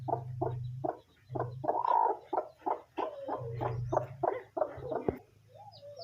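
A hen clucks in short rhythmic bursts alongside high peeping from a brood of newly hatched chicks, close and fairly quiet, with brief pauses between clucking runs.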